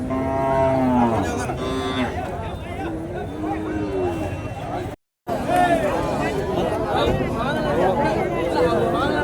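Cattle and bulls at the Madrapalli cattle market low and moo repeatedly, close and loud, amid people talking nearby, with a brief dropout partway through.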